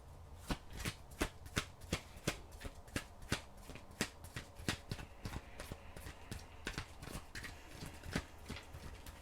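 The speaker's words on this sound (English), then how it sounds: "Let me finish up getting these cards here." Tarot cards being shuffled by hand, a quick run of crisp riffling slaps and flutters in an uneven rhythm, close but soft, with no talking.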